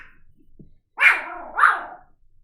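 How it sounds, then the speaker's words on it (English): A dog barks at the neighbors with two loud, close barks about half a second apart, breaking a near-silent room with a slight growl. "You woofing at the neighbors?"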